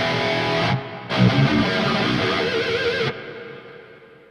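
An electric guitar played through a Gojira plugin on a Quad Cortex rings out as a few distorted chords, each ending in a long reverb tail that slowly dies away, with no talking.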